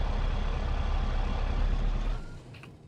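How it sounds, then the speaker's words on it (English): A loud car engine idles with a heavy low rumble in a driving video game, running steadily before it is switched off and fades to near silence. "Let me turn off the car over here. It's really loud."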